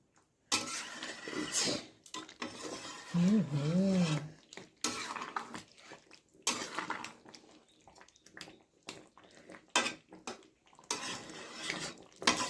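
A spoon scrapes and clatters in a pot of Bengali chicken kosha sprinkled with garam masala, bursts of close metallic stirring separated by short pauses, with a brief voice humming partway through.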